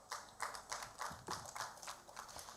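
Faint, sparse handclapping from a small audience at a national AIDS symposium, a few distinct claps in an uneven rhythm, quiet and distant, without talk.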